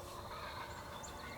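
A wild turkey gobbling from its roost on a morning hunt in eastern Iowa, faint and distant under steady outdoor background noise.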